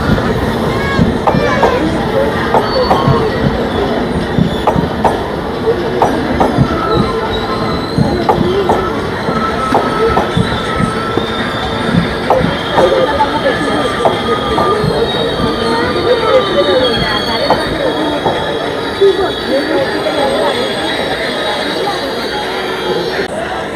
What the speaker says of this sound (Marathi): आता ही ट्रेन आली आहे